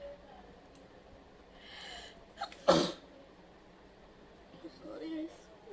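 A single sharp sneeze bursts out near the middle, close and loud, preceded by a brief sniffing intake, with quiet room noise and a little speech around it.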